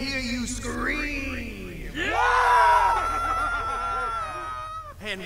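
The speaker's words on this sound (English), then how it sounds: "Let me hear you scream." A crowd screams and cheers at a live wrestling event's main event, a loud sustained roar with rising yells swelling after the first couple of seconds and staying strong throughout.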